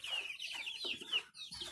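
Chickens kept on a city rooftop for eggs cluck in a short, close burst of several quick clucks and squawks, fairly faint, with no voices.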